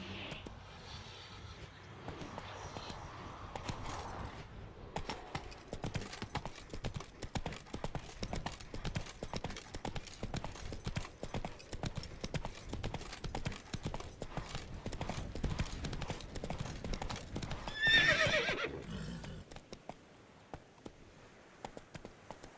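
Horse hooves clip-clopping steadily as Roach gallops in The Witcher 3, a continuous rapid rhythm that holds for most of the stretch, swells briefly near the end, then thins to a few scattered hoofbeats.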